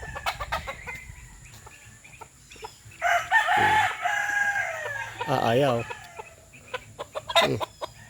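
Chickens in a backyard flock of six hens, some skittish and shy of handling, cluck and fuss near the microphone while a rooster crows loudly in the middle of the clip; a voice speaks briefly over the birds.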